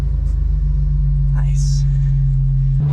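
A Jeep TJ engine fitted with a custom exhaust idles in a steady, deep, close rumble, with a brief higher rasp midway and a slight change near the end.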